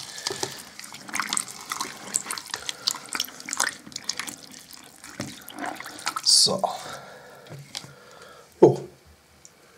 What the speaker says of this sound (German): dann lassen wir mal ein bisschen Wasser reinlaufen